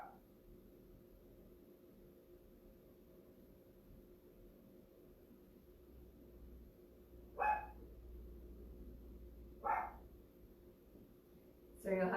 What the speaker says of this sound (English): you'll have to try to relax with Honey barking in the background